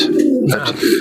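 A pigeon gives a short, soft coo close by, a brief throaty warble against quiet background.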